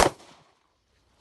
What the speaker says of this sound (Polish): Zobaczcie, co się dzieje po strzale. Oddaję strzał.